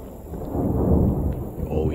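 A thunderstorm in late summer brings a low, broad rumble of thunder that swells and rolls for a couple of seconds, moderately loud and steady in the distance.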